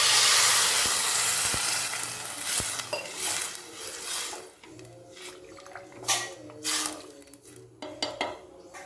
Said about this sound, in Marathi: आता एक तांबे मी पाणी ओतणार आहे